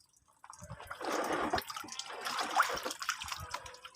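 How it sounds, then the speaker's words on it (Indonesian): Water poured onto a porous plant growing medium of charred rice husk for grapevines, a quiet splashing trickle that begins abruptly, soaks in with soft dripping and fades near the end. "Kita cek pakai siram air ya."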